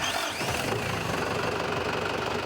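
A farm tractor's engine runs close by with a loud, steady mechanical drone and a rapid, even rhythmic knock throughout, with no pauses and no voices.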